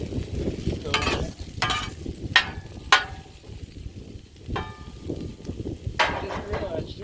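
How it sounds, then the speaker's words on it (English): Precooked kielbasa and cabbage searing on a flat griddle, a steady sizzle broken by several sharp scraping strokes of a spatula as the food is stirred. "we just want to get a bit of the sear"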